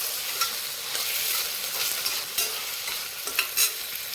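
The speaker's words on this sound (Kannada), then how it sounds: "ಟಮಾಟಿ ಹಾಕ್ಕೊಂಡು ಇದನ್ನು 5 ನಿಮಿಷ ಫ್ರೈ ಮಾಡಿರಿ." Tomatoes frying in a pan for soybean pulao, a steady sizzle broken by repeated scraping stirs and a few sharper spatula taps, close and fairly loud, with no voices.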